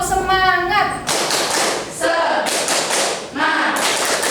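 A group performs a rhythmic spirit clap in a classroom setting, bursts of unison clapping with chanted voices between them, loud and near.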